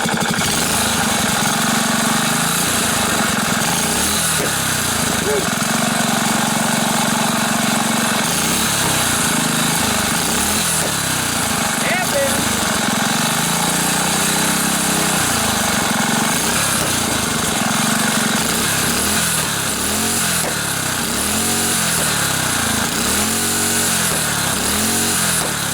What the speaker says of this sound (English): Yeah, this engine runs great.